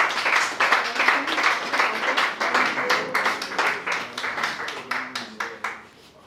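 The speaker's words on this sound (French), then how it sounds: "Nous pouvons applaudir pendant qu'elle s'avance." An audience applauds at a diploma ceremony held by an NGO, giving sustained rhythmic clapping that gradually thins out and fades toward the end.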